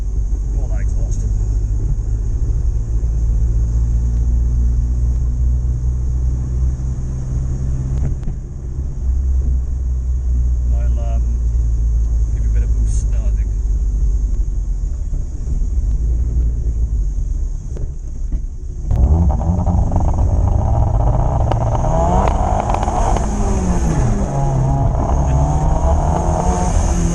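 Ford Capri with a Zetec turbo engine running a Maxx ECU, its engine and exhaust roaring under boost. A loud, steady rumble sits under close talking, then surges louder and harsher near the end.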